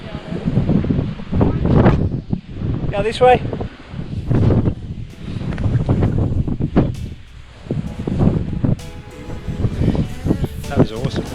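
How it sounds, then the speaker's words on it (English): Strong wind gusts roar and buffet the microphone on an exposed clifftop above sea caves in Somerset, loud and continuous throughout, with people speaking briefly over the rush. "It's too windy."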